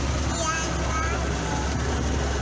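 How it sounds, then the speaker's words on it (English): A restored Glasstron motorboat idles out of a no-wake zone, a steady, low engine rumble with water and wind noise that stays constant and fairly quiet throughout. "We're idling out of the no-wake zone."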